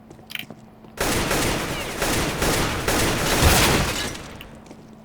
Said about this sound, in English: There is actually shooting up there.